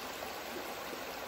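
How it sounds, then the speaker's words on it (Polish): Water pours steadily into a camping water filter outdoors, a continuous near rushing stream with no pauses or voices. "tu możesz pokazać, jak się fajnie będzie woda wlewać teraz"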